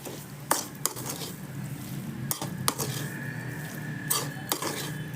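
Potato and coriander samosa filling being stirred and mashed in a pan, with several sharp scrapes and clinks of the spoon against the metal over a soft background hiss, no voices.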